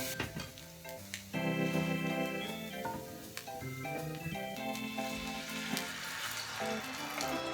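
Tomatoes frying with garlic in a pan for a pasta sauce, giving a steady close sizzle and crackle that runs through the whole stretch alongside clinks and stirring.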